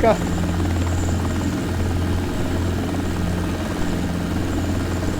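A float-equipped helicopter in a flight simulator lifts off from a harbor, its rotor and turbine making a loud, steady drone with a low thrumming beat that holds unbroken throughout.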